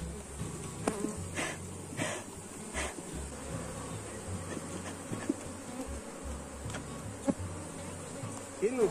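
A honeybee swarm hums around a hive, a dense, continuous buzz with individual bees whining past close to the microphone in brief louder swells.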